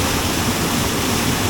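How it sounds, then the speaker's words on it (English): Steady roar of a waterfall pouring into a trout stream, a dense, continuous rush of falling water heard close and loud with no pauses. "Show them the waterfall real quick."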